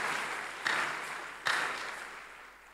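A church congregation breaks into applause, a soft continuous wash of clapping with two brief swells, heard somewhat distant in a large room.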